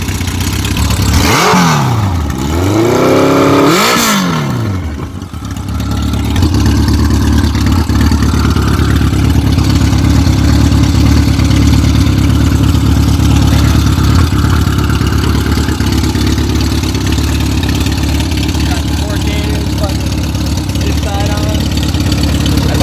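A 1984 Kawasaki ZN700 motorcycle running without mufflers, two loud close revs rising and falling, then a steady rough idle that drones on alone for a long stretch.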